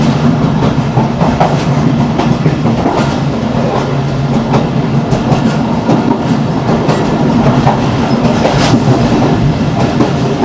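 A Pakistan Railways train runs past Jam ke Chatta station, its wheels beating a steady, loud clickety-clack on the rails over a continuous rumble, with occasional sharper clanks from the cars.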